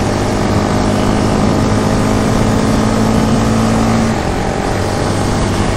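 A Honda CB Twister motorcycle engine drones steadily while riding on a road on a hot day, a loud continuous hum with wind rush and a slight tonal shift near the end.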